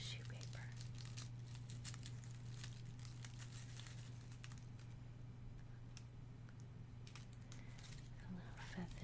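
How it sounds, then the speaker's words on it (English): Soft crinkling of polka dot paper that feels like tissue paper on a cat toy, faint and close, with scattered rustles over a steady low hum. "Paper. Feels like tissue paper."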